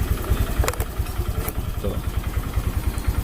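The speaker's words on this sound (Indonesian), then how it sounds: "Oke, mesin menyala." An engine runs at a steady idle with a custom waterproof power outlet fitted, tested in wet conditions. It gives close, even rhythmic pulses throughout with no talk.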